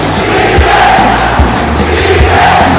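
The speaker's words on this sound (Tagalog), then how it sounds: "I just love the crowd, Migs." A dense, steady roar from a packed crowd cheers through the closing seconds of a professional basketball division finals game between Batangas City and Zamboanga. Faint ball bounces thud underneath, and no one speaks.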